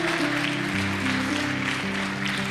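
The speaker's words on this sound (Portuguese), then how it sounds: "Aplauda o Senhor." A church congregation applauds during a worship service, steady clapping blended with sustained music underneath throughout.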